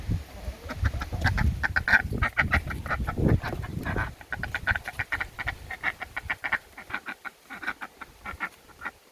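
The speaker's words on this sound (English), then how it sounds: "just about to let the chickens and the duck out for the morning." Chickens and a duck being let out in the morning give a busy run of clucks and quacks, close and loud at first, then a rapid rhythmic series of calls continuing steadily, without talk.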